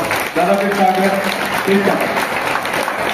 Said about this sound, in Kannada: ನೀವೆಲ್ಲ ಜೋರ ಚಪ್ಪಾಳೆ ತಟ್ಟಿ ಅವ್ರಿಗೆ ಥ್ಯಾಂಕ್ಸ್ ಹೇಳಬೇಕು